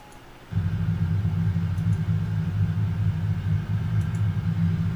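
A steady low engine drone from a racing video game's car starts abruptly after a half-second of quiet and holds at an even, loud level, like a car idling or cruising.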